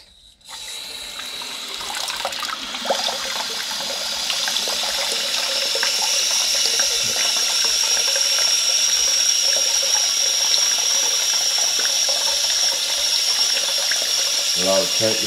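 Water refills a toilet tank after the fill valve is trimmed and reinstalled, a steady hissing rush that begins abruptly and runs on continuously at close range, without talk.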